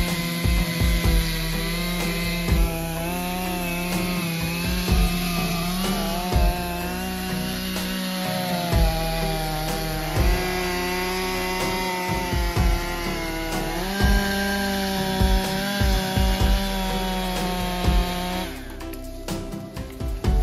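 A Stihl chainsaw engine drones loudly and continuously while felling a huge tree, its pitch wavering as the chain bites through wood, with a higher whine rising near the end.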